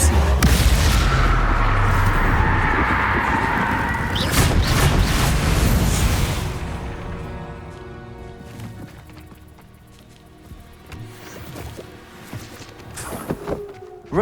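Confringo blasting spells go off in Hogwarts Legacy as loud, dense bursts of booming impacts over the first six seconds, then fade to quieter scattered thuds and crackles.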